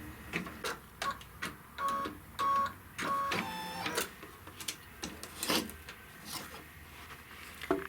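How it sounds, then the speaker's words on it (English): Embroidery machine stitching placement lines on a hoop for a jar topper project, giving quick mechanical clicks and short bursts of whirring, close and steady with pauses between runs. "we're going to tape it in place after it stitches the placement lines"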